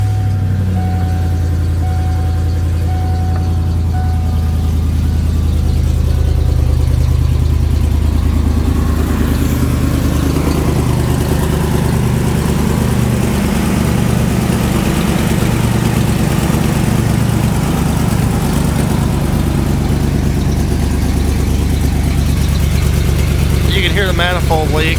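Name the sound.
1996 Ford F-250 truck engine idling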